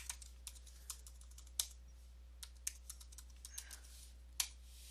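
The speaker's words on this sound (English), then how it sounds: "I'm just gonna type my password." A password is typed on a computer keyboard, with a quiet, irregular series of crisp key clicks and a few sharper taps, heard close and alone over a low steady hum.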